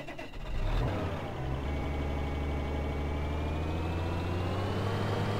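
Tractor engine in Farming Simulator 2013 starting up and settling into a steady, loud, close low idle drone that holds unchanged for several seconds, with no talk.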